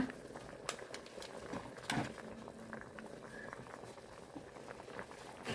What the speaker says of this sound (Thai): ตอนนี้ก็เริ่มเดือดแล้วนะคะ